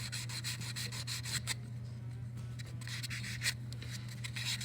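Hand sanding of a ring with 400 grit sandpaper, a soft close scratchy rubbing in quick back-and-forth strokes with a brief lull midway, under a steady low hum.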